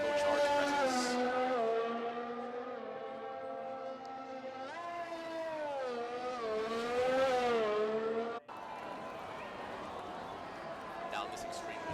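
Formula One cars with V6 turbo engines race at the Mexican Grand Prix in a video game, their high whining engine tone climbing and dipping through gear changes, with commentary heard over the racing.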